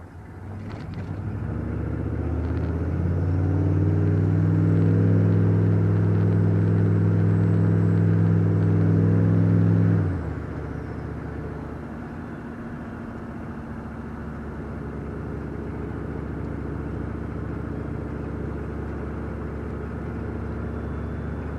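A 6.5L diesel truck with an S300 turbo cruising near 60 mph, a loud steady engine drone with strong low harmonics that drops to a quieter, even hum partway through, no voices.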